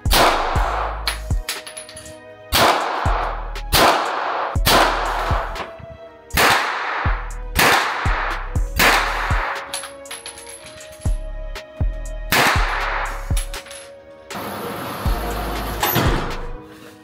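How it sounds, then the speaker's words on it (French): Gunshots crack one after another at an outdoor shooting range in Poland, about nine loud sharp reports spaced roughly two seconds apart, each with a booming low thump and a short ringing tail. No talking is heard. "On va aller tirer."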